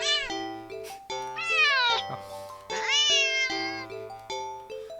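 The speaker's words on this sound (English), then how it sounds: "the cat meows sharply at you and dashes off around the corner and into the hall" A cat lets out a series of sharp, loud meows up close, four or five rising and wavering cries in quick succession with short pauses between them.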